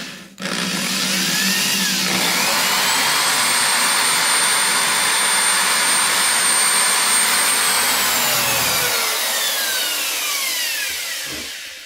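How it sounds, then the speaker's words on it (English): A small drill bit spins up sharply into a steady, high, whining drone that holds for several seconds close by, then winds down and stops, with no talking over it. "It's a small drill bit, and I don't want to put too much pressure."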